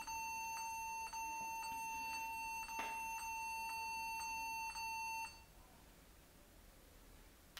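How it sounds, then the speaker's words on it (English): A Toshiba Satellite L645 laptop gives a steady, loud electronic beep tone at startup, pulsing in regular short repeats for about five seconds before cutting off, leaving only a faint hum. "I hear some beeping noise."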